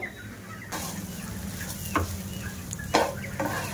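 Spiced potato filling for aloo puri stirred in a hot pan, with dry chilli, cumin-pepper and meat masala powders, giving a steady low sizzle and a few sharp spoon scrapes against the metal, close and alone.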